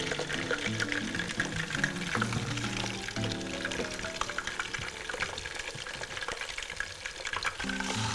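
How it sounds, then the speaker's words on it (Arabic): Chicken pieces, cut into eighths, frying in a little oil (regular or olive), a continuous close sizzle with stirring clatter throughout. "دلوقتي هنحمرها شوية في شوية زيت، ممكن زيت عادي وممكن زيت زيتون زي ما تحبوا"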